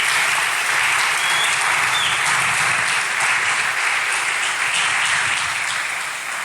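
Sustained audience applause fills the room at a church gathering, steady dense clapping from many hands throughout with no voices over it.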